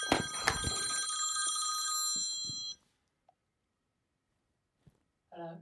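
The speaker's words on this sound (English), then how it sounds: "Wait, it's ringing there." A telephone rings loudly and close for nearly three seconds with a bright, sustained electronic trill, then cuts to near silence broken by small clicks before a voice begins at the end.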